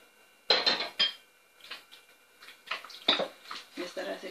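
Chicken pieces mixed with masala in a bowl produce irregular clinks and scrapes of a utensil against the bowl, close by, in short bursts with brief pauses.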